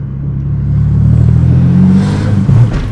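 A Ford Falcon EF XR6 engine revs up loudly and steadily close by, the revs then hanging before dropping back slowly, with a short throttle blip near the end.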